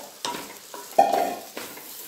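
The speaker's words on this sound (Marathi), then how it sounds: "हा तांदूळ चांगला परतून घ्यायचा आहे आपल्याला, म्हणजे फडफडीत अशी बिर्याणी होते" Rice being roasted and stirred in a pan for chicken dum biryani, with soft scraping strokes and a faint sizzle, quiet and close, with a few distinct stirring scrapes.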